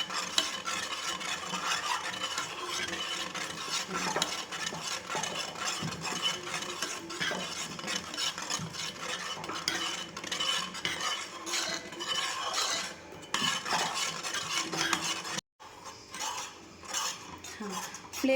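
Sugar mixture stirred in a pan with a metal spoon, continuous scraping and rubbing strokes against the pan in a steady rhythm, close and fairly quiet, with a short break near the end.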